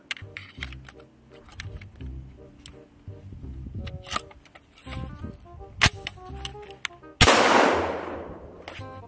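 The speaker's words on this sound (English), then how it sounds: "So the rifle is capable of shooting absolutely everything that I put through it" Kirici AXL47 rifle: a few sharp mechanical clicks and handling noises, then one loud close gunshot near the end that rings out as it decays.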